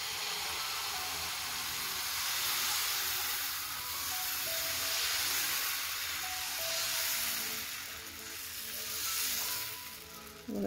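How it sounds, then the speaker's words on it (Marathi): Amboli batter poured onto an oiled pan gives a steady, loud hiss that swells and eases in slow waves, with no talking. "आपण आता आंबोळी टाकून घेऊया।"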